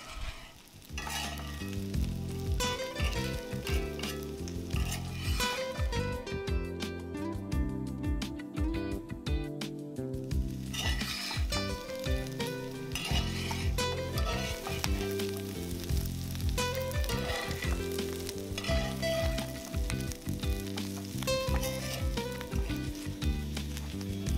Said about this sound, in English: as I feel that the meat is charring, I keep drizzling the coconut oil